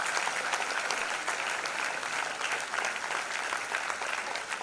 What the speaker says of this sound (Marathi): जोरदार टाळ्या हरीशजींसाठी आपण वाजवल्या पाहिजे